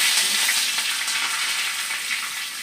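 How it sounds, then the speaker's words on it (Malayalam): Curry leaves and green chillies fry in a pan of oil for a Kasaragod elissery dish, a steady, close hissing sizzle that runs without a break and with no voices. "ഇതുപോലെ ഞാൻ കറിവേപ്പിലയും പച്ചമുളക് ഇട്ടത്"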